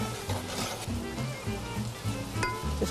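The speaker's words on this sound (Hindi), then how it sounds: "इसको थोड़ा सा भून लेंगे।" Spices, including dried red chillies, black pepper and turmeric, frying in a pan for mutton or beef stew, a close, steady sizzle with rhythmic stirring scrapes every half second or so, and no talking.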